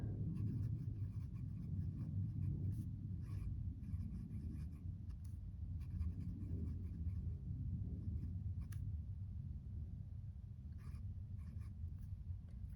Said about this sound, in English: I've never written with an ink that felt like this, and I did put it in a wet nib